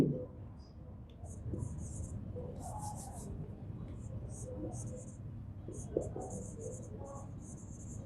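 Chalk or marker scratching on a board during a grammar lesson, in short bursts of writing strokes with pauses, faint and steady under low room noise and a quiet voice.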